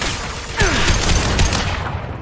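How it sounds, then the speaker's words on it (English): Gunfire in the video game Mass Effect 2 Legendary Edition, a burst of sharp shots starting abruptly and rattling on amid dense game effects for about two seconds. "Firing a high-impact shot!"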